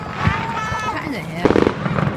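Bonfire night fireworks burst and crackle outdoors, with a few sharp pops and a short crackling spray partway through, heard beneath excited voices talking.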